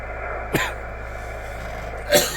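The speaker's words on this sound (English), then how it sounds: "If I could stop coughing." Two short, sharp coughs, well apart, each bursting out of a quiet background hum.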